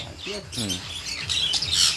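A few short, high squawks and chirps from cockatiels close by, brief and bright, with a voice murmuring underneath.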